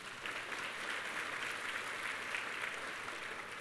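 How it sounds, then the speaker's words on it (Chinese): Applause from an audience at a sales seminar, a sustained even patter of many hands clapping together, fairly distant and soft but continuous throughout. "再次给自己一个掌声。"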